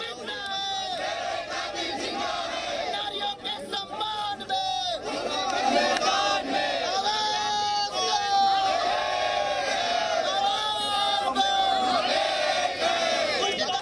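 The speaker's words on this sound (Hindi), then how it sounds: "आप ये नारेबाजी भी सुन रहे हैं, इंसाफ की मांग कर रहे हैं।" A large protest crowd that has blocked a road over a murder case chants slogans demanding justice: many loud, overlapping voices shouting in rising and falling waves, close and continuous throughout.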